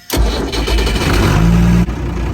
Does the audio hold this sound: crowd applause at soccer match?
no